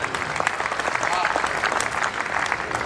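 Steady applause from an audience at a Hindi comic poetry gathering, dense clapping filling the whole stretch at moderate loudness without pause.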